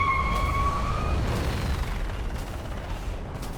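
Aircraft cannon fire in War Thunder from a Mirage F1 C-200 jet, a loud, dense, rumbling burst that rolls continuously, then fades slightly while engine roar and faint whistling tones carry underneath.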